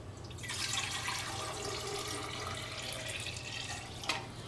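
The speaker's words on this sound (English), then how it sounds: "What happens when I pour the water into the vase?" Water pours from a pitcher into a vase in a steady, close stream, starting abruptly after a brief quiet and running unbroken, with a small knock near the end.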